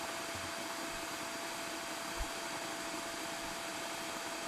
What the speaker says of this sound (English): Oh no, the vacuum monster is coming for you.